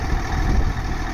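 A 2009 Massey Ferguson 7480 Dyna VT tractor engine idles with a steady, low diesel rumble, close and unbroken, with no voices.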